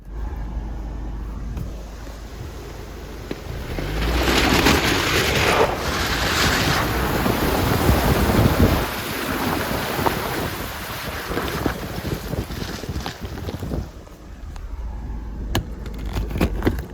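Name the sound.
vehicle driving through a stream crossing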